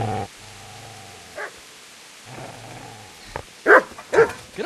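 Dog barking in the medieval game Kingdom Come: Deliverance: a low growling bark opens, followed by drawn-out whining howls and a burst of sharp, loud yelps near the end.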